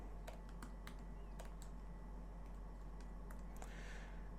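Fast bursts of keystrokes on a computer keyboard, quiet and close, with short pauses between runs of clicks over a faint steady hum.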